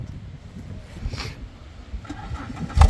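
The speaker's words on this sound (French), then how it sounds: "tu peux la démarrer. Je vais filmer un peu le démarrage." A Renault Clio RS 3 fires up after a faint cranking, the engine catching with a loud burst near the end of a quiet, low rumbling stretch.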